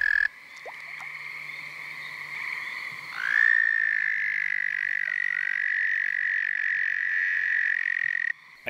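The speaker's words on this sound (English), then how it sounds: "I found myself with toads singing all around me." Connecticut toads call at night from a puddle on a farm road, a long, steady, high musical trill that swells as a second caller joins in. Close and loud, with no talking.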